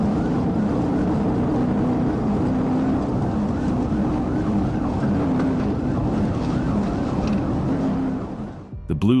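Police car siren wailing in a repeating rise-and-fall pattern over road and engine noise during a high-speed chase, steady and fairly close before fading near the end.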